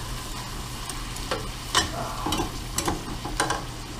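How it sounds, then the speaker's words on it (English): Beef stew meat browning in a pot, a steady frying sizzle with scattered stirring scrapes and small pops, close and moderately loud with no talk. "fire away and brown that meat"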